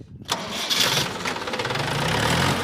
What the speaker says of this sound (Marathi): इतका जुना ट्रॅक्टर आहे पण चालू एका शेल्पात होते